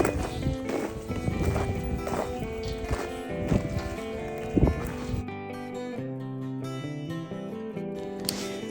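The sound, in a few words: horse walking in an arena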